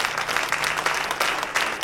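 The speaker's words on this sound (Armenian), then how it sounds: "Շնորհակալություն այս ծափերը ձեզ" Studio audience applause at a Sunday evening TV variety show, brisk continuous clapping at moderate loudness throughout.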